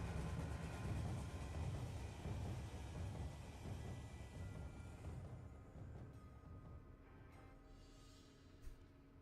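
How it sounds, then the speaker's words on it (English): A train arrives in the video game Alice: Madness Returns, its loud rumbling roar filling the first half and then gradually fading and thinning out, with a brief clank near the end. "Here's your train."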